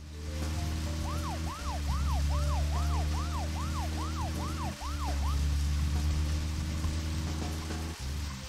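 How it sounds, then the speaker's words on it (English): Wailing car siren in the video game Deadly Premonition, a rapid repeating rise-and-fall whoop over the steady low hum of the driving engine, loud and close. "Putting on my siren doesn't affect it."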